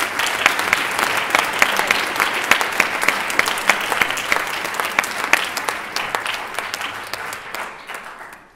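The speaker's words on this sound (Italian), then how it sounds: "Io farò un applauso anche a voi." A theatre audience at a violin concert breaks into sustained applause, many hands clapping in a dense, steady wash that slowly fades toward the end.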